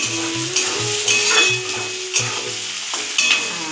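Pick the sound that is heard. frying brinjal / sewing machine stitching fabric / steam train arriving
frying brinjal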